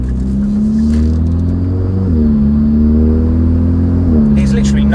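A facelift Hyundai i30N with a DCT gearbox and an RPM Performance full exhaust rumbles at a steady idle-to-mid rev, its deep drone rising slightly with two throttle blips, recorded close, with people talking over it.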